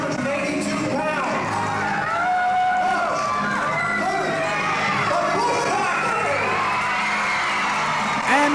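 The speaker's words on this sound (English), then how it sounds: "And the crowd love these guys." Wrestling arena crowd cheering, whooping and shouting steadily throughout, a dense loud roar of many voices with individual yells rising out of it, during a Bushwhackers match.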